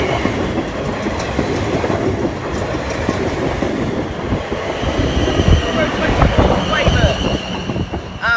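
A train, number 44424, runs past the level crossing at Brockenhurst station in Hampshire with a loud, continuous rumble and rhythmic clatter of wheels on the rails. Gusts of wind buffet the microphone, and some speech is mixed in.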